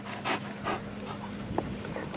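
A dog pants in quick, soft breaths after running zoomies indoors, close by, with a faint whimper and a steady low hum underneath.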